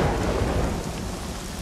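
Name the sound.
rain and thunder special effects in the film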